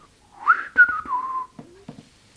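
A person whistles a short, bright melodic phrase alone, with a few quick rising and falling notes ending in brief chirps.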